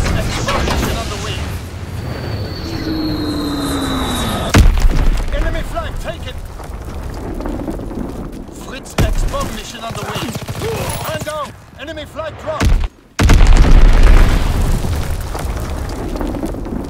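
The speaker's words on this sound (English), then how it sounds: "Strafing run inbound." Strafing run explosions in a shooter video game, a few heavy booms and bursts spread across the clip amid game announcer voice lines and effects.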